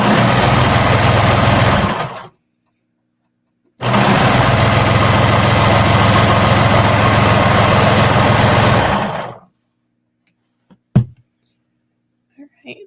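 A sewing machine stitches a seam on a sports bra in two sustained, loud, even runs, a short one and then a longer one, separated by silence, with a few faint clicks afterward.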